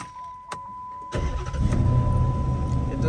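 A stage 2 cammed 5.7 Hemi V8 fires up after a couple of clicks and settles into a loud, lumpy warm-up idle with a choppy rumble close by.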